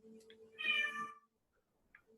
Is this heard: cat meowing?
yes